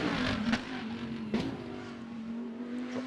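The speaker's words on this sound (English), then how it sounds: "that very distinctive Audi engine note as he heads then now from Police up to Moorish and then on towards Donna Maria" An Audi GT race car engine during Macau GT Cup free practice on the street circuit, a continuous droning engine note holding steady with brief gear-change blips, heard at a moderate distance with no voices.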